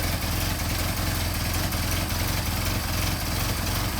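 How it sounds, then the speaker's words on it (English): A Mercedes 190SL engine fitted with Solex carburetors idles steadily and close by, a continuous low rumble with an even pulsing beat and no voices over it. "that's how they should work, and settle into idle"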